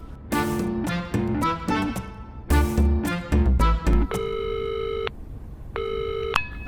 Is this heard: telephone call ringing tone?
yes